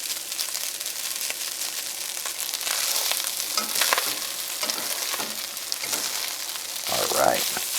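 Rice frying in a hot pan for fried rice, a steady bright sizzle and crackle throughout with occasional stirring scrapes and rises in intensity, close and continuous.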